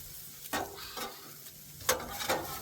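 Fried rice with butter sizzles on a Blackstone griddle while a spatula stirs and breaks up chunks, leaving a steady frying hiss punctuated by several scraping strokes across the metal surface.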